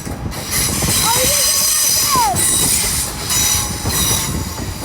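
A passenger train from Katowice pulls into a Polish station with a loud, steady rolling rumble, and sharp metallic wheel squeals rise and fall over it.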